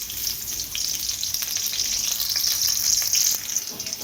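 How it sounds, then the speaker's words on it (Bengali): Two medium onions, cut into cubes, fry in a pan with a continuous bright crackling sizzle, close and steady throughout, without any voices. "এটা আমি একটু লাল লাল করে ভাজি করে নিব"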